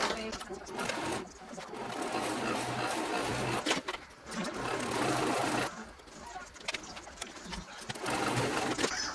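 A sewing machine stitches fabric pieces for a concealed-carry purse in a home setting, running in steady bursts with brief pauses, while a television murmurs in the background.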